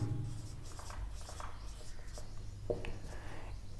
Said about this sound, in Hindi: तो चलो हम यहां पे लिखते हैं प्रूफ